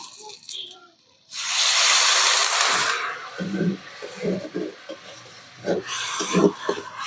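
Snake gourd cooked with coconut and chillies stirred in a pan as a little water is poured in: a loud hiss of water hitting the hot pan, then repeated scraping stirs in uneven strokes, close.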